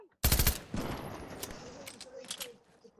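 A rapid burst of automatic gunfire from the Fortnite video game cracks out loudly at the start, then trails off into fainter game noise and a few scattered shots.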